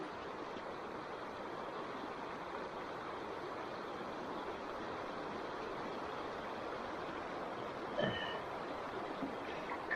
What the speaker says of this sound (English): And this river flows out to the sea.